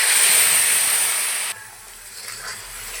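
Ground cham grass leaf paste hitting hot oil in a wok, a loud sharp hiss that cuts off abruptly halfway through, leaving a faint low bubbling.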